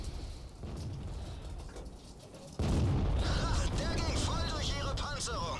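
In World of Tanks, a Panther armed with the 8.8 cm gun fires a single sudden, loud cannon boom that leaves a heavy rumble, heard beneath someone talking over the game.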